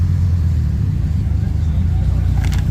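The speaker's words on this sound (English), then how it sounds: "Some Camaro action." A Chevrolet Camaro passes at a cars-and-coffee meet, its engine a steady loud low rumble throughout, with a brief higher-pitched whine near the end.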